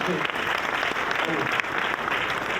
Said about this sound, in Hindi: तालियां बजाएं मैडम के लिए।